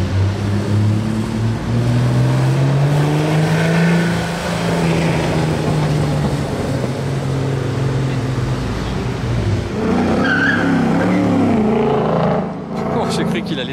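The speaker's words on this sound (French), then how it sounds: "Ah, le downshift infernal." Porsche Singer sports car downshifting, its engine note rising and falling as it blips through the gears and roars past, heard over continuous talking.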